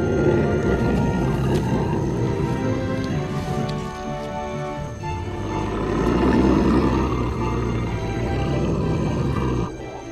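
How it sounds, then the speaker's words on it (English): A lion roars in a cartoon animal-learning animation, with a dense, rumbling roar that continues loudly across the whole stretch alongside busy layered background sound. "The roar of the lion can be heard from"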